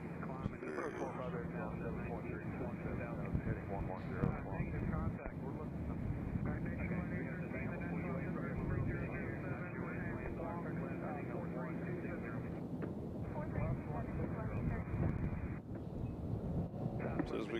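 A small airplane's engine drones steadily at a distance as it taxis around Nashville International Airport, a constant hum mixed with wind noise on the microphone.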